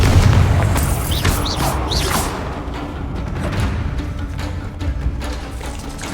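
A Confringo spell explosion in Hogwarts Legacy booms loud and close, with whooshing swishes early on, then a sustained rumbling roar and scattered crackling debris, no speech.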